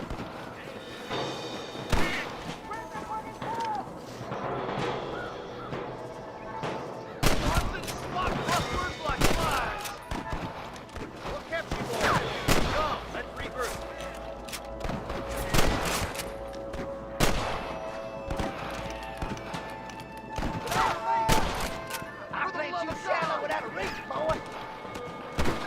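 Red Dead Redemption gunfire, with bursts of shots and heavy thuds over a noisy background, a voice talking intermittently.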